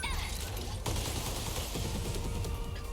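Mech weapons firing in the video game 13 Sentinels: Aegis Rim, including multi-rocket launchers, a dense barrage of rapid blasts and bursts under a steady noisy battle din.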